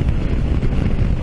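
Strong wind buffets a rider on a Mondial Rx3i Evo motorcycle, a loud, constant, blustery roar with uneven gusting across the brief moment, no voices.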